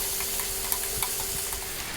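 Tomatoes with oregano cook down in a pan for spaghetti with anchovies, giving a steady soft sizzle and hiss with faint occasional pops, close and continuous, with no talking.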